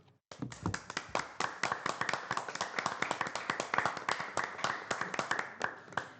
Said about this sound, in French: on applaudissait les pompiers dans ce moment